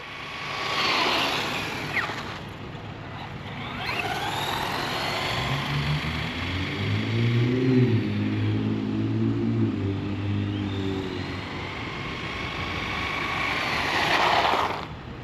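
Maverick Quantum 2 RC truck on a 2S brushed-motor speed run, its motor whine rising as it approaches, passing with a buzzing drone, then fading and returning loud near the end.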